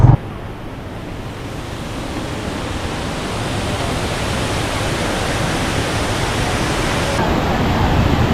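Rushing water at Aliwagwag Falls in Cateel, Davao Oriental, a loud, dense, continuous roar that holds steady and swells slightly toward the end, with no speech over it.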